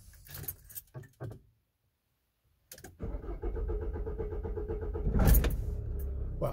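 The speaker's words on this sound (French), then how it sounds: "Là, je vais couper. J'essaie de redémarrer." Diesel car engine after Delphi injection pump work with metal filings found: keys jangle, a short silence, then the starter cranks and the engine catches into a steady, close idle.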